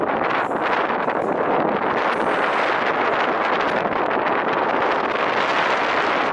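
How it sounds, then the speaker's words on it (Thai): Strong, steady wind roars and buffets the microphone high on the dome of St. Isaac's Cathedral, a constant loud rushing hiss with no pauses. "ลมกันโชคสุดๆ"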